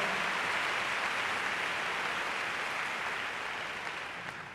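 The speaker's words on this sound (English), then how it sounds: "Let's give the Lord a big clap." A church congregation claps together as one dense, continuous wash of hand-clapping, loud and sustained, slowly fading in the final second.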